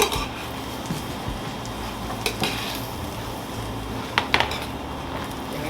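Mushroom pasta sauce cooking in a sticking aluminum pan, a soft sizzle beneath scattered clinks and scrapes of a utensil, with a few sharper taps near the end.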